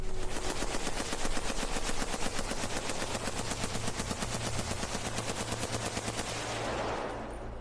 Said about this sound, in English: the door screeched open to a roar of gunfire.